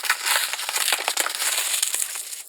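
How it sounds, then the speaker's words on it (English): Saran wrap plastic film crumpled close to a microphone, a continuous dense crackle of sharp crinkling bursts lasting a few seconds with no talking. "You gotta love how saran wrap sounds on microphones"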